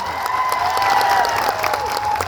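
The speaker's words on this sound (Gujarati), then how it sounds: "આનંદભાઈ પટેલ સાહેબ માટે જોરદાર તાળીઓ પાડ લઈએ" Crowd at a Birsa Munda birth anniversary gathering in Netrang applauding loudly, steady dense clapping with some cheering sustained throughout, close and full.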